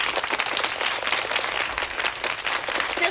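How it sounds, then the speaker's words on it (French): Sustained audience applause fills the whole stretch, dense and steady clapping from a crowd at a French televised palace event, loud and continuous without speech. "je crois qu'on peut l'applaudir à nouveau"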